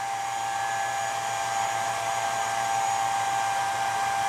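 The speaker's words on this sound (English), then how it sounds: "Wow, that's a noisy fan." Cooling fan of an HP 6611C linear bench power supply whirring loudly right after power-up, a steady broadband rush with constant tonal whine lines, sustained and unchanging throughout with no talk.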